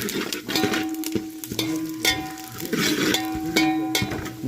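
Masala pulao spices stirred in a pan, with repeated metallic scrapes and clinks of a spoon against the pan over a soft sizzle, in an uneven rhythm and close by.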